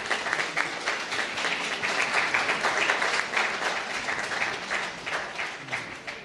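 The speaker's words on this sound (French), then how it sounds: "Il mérite des applaudissements." Sustained crowd applause at a 8 May commemoration honouring Senegalese tirailleurs, steady dense clapping that holds for several seconds with slight swells, no voices over it.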